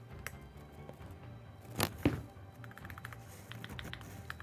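Keys clack on a Corsair MAKR 75 mechanical keyboard, a close, irregular run of light taps with a couple of louder, sharper strikes near the middle, and no talk over them.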